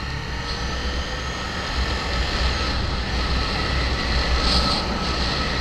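Steady loud roar from a Suzuki SV1000 motorcycle while riding, with engine drone and wind noise rising slightly toward the end, no talk.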